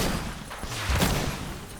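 Heavy cannon-like gunfire in the Marvel's Avengers video game, a dense burst of booming shots that swells near the middle and then tails off, loud and up front.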